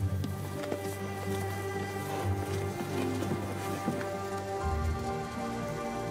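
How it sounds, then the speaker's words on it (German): Rain falling in Madagascar, a steady soft patter of drops spread evenly across the whole stretch, gentle and continuous beneath a quiet sustained tonal background. "bis der Regen kommt."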